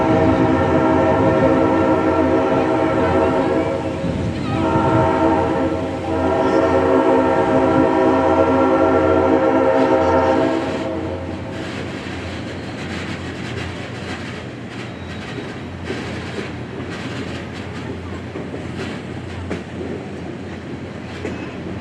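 A train crossing the Royal Gorge, where its hanging bridge is suspended over the river, sounds a loud, sustained horn for about ten seconds before the blast stops, leaving a steady rumble and clatter of passing cars with no talk.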